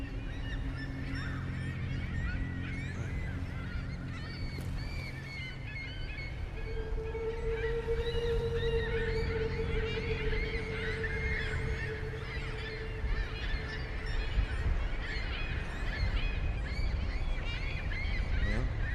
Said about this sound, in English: Why are those birds making so much noise?